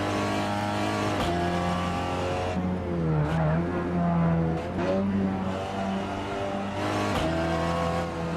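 A Peugeot 308 RCZ racing cup car on the Tsukuba circuit, engine revving hard through the gears, rising pitch sweeps broken by quick upshifts, loud and close from onboard, with a brief tire squeal.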